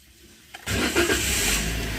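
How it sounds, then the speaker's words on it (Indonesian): A Daihatsu Sigra car engine cranks briefly after a quiet moment, catches and settles into a loud, steady idle close by, with no talk over it. "Oke, kita nyalakan mobil."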